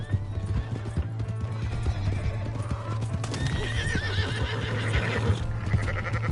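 Horse hooves clatter steadily and a horse neighs loudly in Red Dead Redemption 2, close and continuous over several seconds, with a dense layer of game sound around it.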